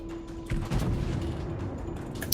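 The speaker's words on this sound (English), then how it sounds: "Decent opening salvo" Battleship main guns firing a salvo in World of Warships, heavy booming gunfire bursts with rumbling low end over a steady game soundscape, several overlapping blasts in quick succession.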